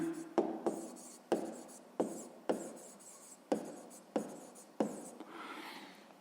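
A pen or pencil scratches out a maths ratio on paper during a sixth-grade lesson, quiet close strokes in a regular series of about eight short bursts with sharp onsets.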